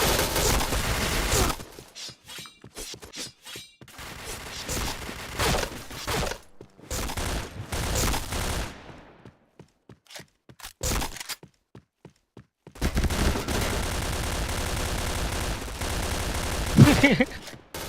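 Gunfire in the online shooter Point Blank comes in bursts of rapid automatic shots and single cracks, separated by quiet gaps, with players talking over the game audio.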